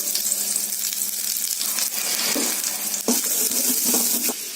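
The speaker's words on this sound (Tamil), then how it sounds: "வெட்டி வச்ச வெங்காயத்தை போடுறோம்." Sliced onion drops into hot oil already seasoned with cinnamon stick, clove and fennel seeds for a peas and potato milk curry. It gives a steady, close, hissing sizzle with brief bursts and a few soft stirring knocks.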